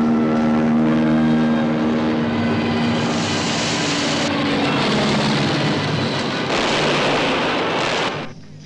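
An old propeller plane flies past as a loud, steady engine drone with a strong low hum, holding at close range for about eight seconds before cutting off near the end.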